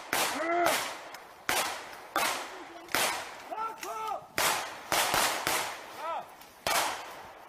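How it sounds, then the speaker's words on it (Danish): Sharp gunshots crack around a medic during a military-style training exercise, a series of about ten loud reports spaced irregularly over several seconds, each with a short echoing tail, with shouting voices between them. "der bliver skudt nogle skud omkring en"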